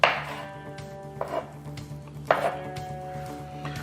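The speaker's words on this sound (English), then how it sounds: "I'm gonna just cut them in half and then quarter them" A knife slices cherry tomatoes into quarters on a cutting board, giving two or three firm chopping knocks with light clatter in between, close up with no talking.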